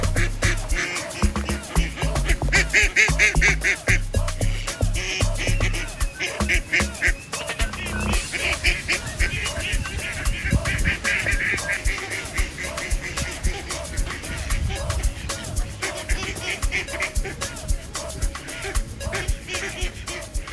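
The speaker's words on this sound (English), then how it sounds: "And look at these little ducks." Little ducks at a large vineyard near Cape Town quack in repeated nasal bursts over a busy background, with people talking nearby throughout.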